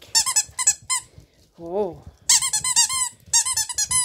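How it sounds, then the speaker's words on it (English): A 6.5-week-old English Springer Spaniel puppy makes a squeaky toy bowl squeak in rapid clusters of sharp, high squeals, loud and close, with a person's brief voice in a short gap between bursts. "We like a squeaky toy."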